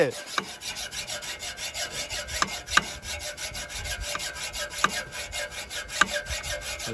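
A motorcycle silencer being cut by hand, with rhythmic back-and-forth rasping strokes repeating steadily at close range and a sharper scrape marking each stroke.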